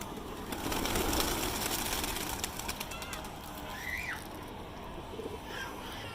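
Pigeons coo and flutter on a rooftop amid a steady outdoor rumble, with a brief squawk partway through.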